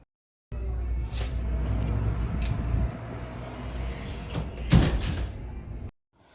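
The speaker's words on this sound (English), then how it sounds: "So you can see the door was slamming." A door fitted with a hydraulic door closer swings and slams shut hard, a sharp loud bang near the end after sustained rumbling movement, heard up close indoors without speech.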